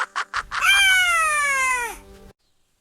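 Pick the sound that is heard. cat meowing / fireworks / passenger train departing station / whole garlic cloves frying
cat meowing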